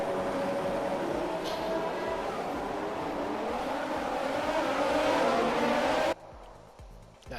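Formula 1 cars from the racing game F1 2020 roar past in a dense, continuous engine howl that swells and holds loud, then cuts abruptly near the end.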